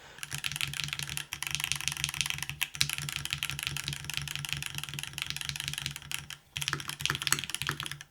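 Steady, rapid typing on a full-size mechanical keyboard with granite keycaps and a top-mount aluminum plate, a dense clatter of clicky keystrokes with a few brief pauses, close up and fairly quiet.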